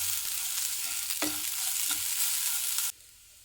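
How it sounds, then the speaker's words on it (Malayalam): Flattened rice and grated coconut are stirred in ghee in a hot pan, a soft even sizzle with a few scraping strokes of the spoon, cutting off abruptly near the end. "അതിലേക്ക് 1 മുറി തേങ്ങ തിരുമ്മിയത് കൂടി ഇട്ട് കൊടുക്കാം. ഒന്ന് നെയ്യുടെ കൂടെ ഒന്ന് ചൂടായി വന്നാൽ മതി,"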